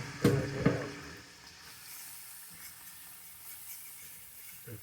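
Flour cooking in hot fat for homemade fried chicken gravy, two loud stirring scrapes up front, then a soft continuous sizzle and hiss.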